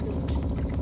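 Water pouring and gurgling into the water line of a Four Wheel Campers camper as it fills, a close, busy rush of liquid lasting under a second, with no one speaking.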